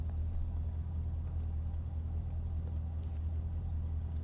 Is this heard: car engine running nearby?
yes